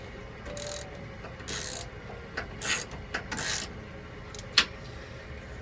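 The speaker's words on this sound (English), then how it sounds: "And we're going to tighten these little bolts down." Ratchet wrench tightening small rear brake bolts on a 2022 Toyota Tundra SR5 4WD, with faint clicking and metallic ticks scattered over steady background noise and a sharper click near the end.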